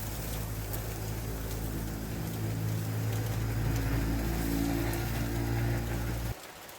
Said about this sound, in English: even though a thunderstorm is just passing and it's raining